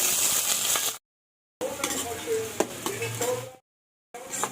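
Chopped onions and green chillies sizzle in hot oil in a pan, a close, steady hiss broken by abrupt silent gaps, with occasional stirring clinks over the frying.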